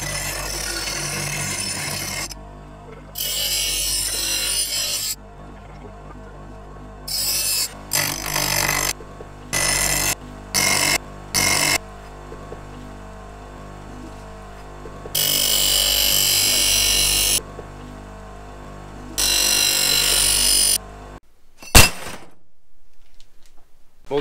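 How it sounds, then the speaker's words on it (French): Bench grinder deburring and chamfering small metal pieces, its wheel whine broken into several loud bursts of grinding against the parts with quieter idle spinning between them. "Maintenant, on va aller passer au touré pour ébavurer et faire les chanfreins,"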